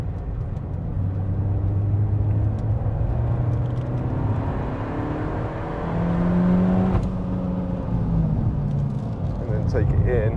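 A Peugeot 308 GTi is driven flat out around Anglesey Circuit, its engine droning and rising in pitch through steady acceleration, heard from inside the car. Someone speaks over the engine.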